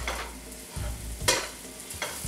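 Sausage being stirred with paprika and cayenne in a pan, a few scraping stir strokes over a low sizzle, close and moderately quiet with no talk.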